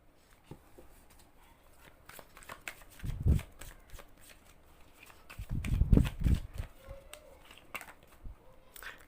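Playing cards are shuffled in two soft, rapid bursts of riffling and flicking, fairly close and quiet, with scattered small handling clicks between them.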